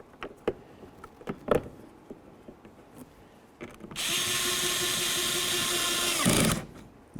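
A power tool tightens a door latch bolt on a 2007-14 Ford Edge: a few scattered clicks and knocks of positioning, then a loud, steady whirring drive for about two and a half seconds that stops abruptly.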